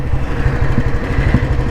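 An old Royal Enfield Bullet with a CI engine thumps along at low speed, its single-cylinder exhaust beating in a loud, close, even rhythm.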